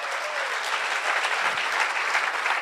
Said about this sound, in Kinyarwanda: Makofi kwa Bwana, makofi amashyi kwa menshi ku mwami